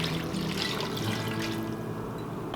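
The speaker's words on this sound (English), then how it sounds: "Now I just opened a thing of beef broth and I don't want that to go to waste, so I'm using beef broth instead." Beef broth being poured into a pot of potato soup, a soft, steady liquid splash and trickle heard close and fairly quiet for a few seconds, with no talking.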